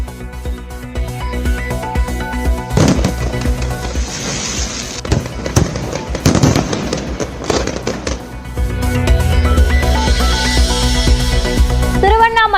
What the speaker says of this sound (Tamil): கங்கை நதிக்கரையில் அசத்தலாக அரங்கேறிய வான வேடிக்கை மற்றும் லேசர் ஷோ.